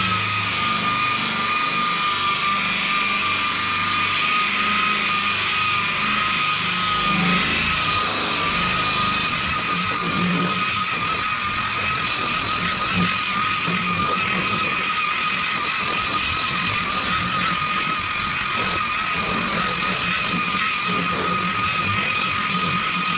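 A power polisher buffs compound into the paint of a 1979 Ford F150, a steady, loud machine whir that runs without a break, with faint rubbing texture underneath and no talk.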